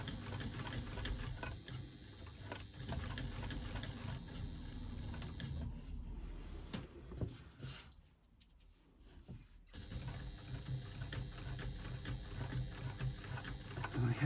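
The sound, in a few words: sewing machine free motion quilting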